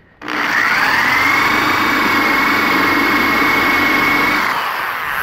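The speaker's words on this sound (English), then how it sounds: "I'm going to take my spade bit once again, and I'm going to countersink down into this piece of wood" A power drill with a spade bit bores a countersink halfway into a piece of wood for a floating shelf, giving a steady, loud, high-pitched whine that runs unbroken for about four seconds before tapering off.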